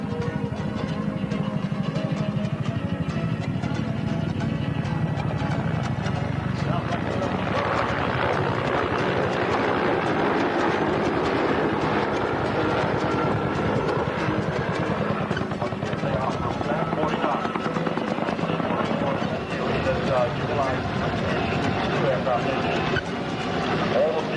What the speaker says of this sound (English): when a helicopter is hovering, it actually is flying in place